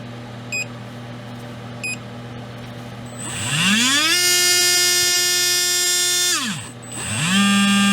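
Two short electronic beeps, then a REDS VX4 Pro Stock 17.5T RC car electric motor on an auto test whines up in pitch, holds a steady high buzz, winds down and spins up again.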